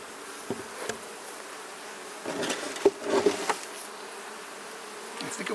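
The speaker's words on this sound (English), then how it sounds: "decent number of bees" Honeybees buzz around an opened beehive, with low, faint droning and intermittent louder passes near the listener, alongside scattered small knocks of the hive being worked. There is no talk.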